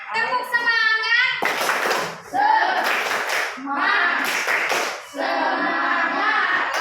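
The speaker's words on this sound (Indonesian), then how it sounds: "Tepuk semangat" Children in a classroom clap a rhythmic 'tepuk semangat' spirit clap in bursts of quick, loud claps, mixed with their chanting voices and an adult speaking between rounds.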